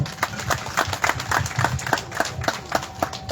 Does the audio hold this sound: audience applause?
yes